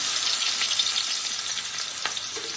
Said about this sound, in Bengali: আমি একটু করে সব মাছগুলো দিয়ে আমি ভেজে নেবো